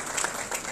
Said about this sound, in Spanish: Aplauso para el señor Ronald Guerrera.